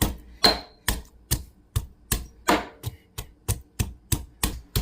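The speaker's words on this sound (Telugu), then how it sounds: "ఫస్ట్ జింజర్ కొట్టాలి" Fresh ginger pounded by hand in a mortar for a spicy country chicken curry, a steady run of about twelve sharp, evenly spaced thuds, close and clear with no voices.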